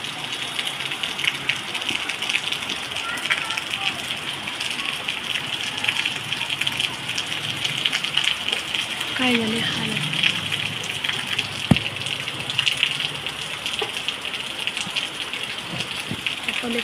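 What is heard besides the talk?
rainwater pouring down from the terrace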